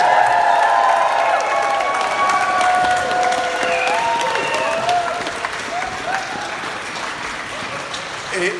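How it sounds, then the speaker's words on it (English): Festival crowd giving an enormous cheer and round of applause in thanks at the close of a large arts festival, loud sustained clapping with whoops and cheers rising over it, fading slightly toward the end. "let's just give everybody here for everything you did an enormous cheer and round"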